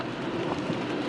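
Steady rain falls outdoors in a continuous, even wash of noise with no breaks, moderately loud and with nobody speaking.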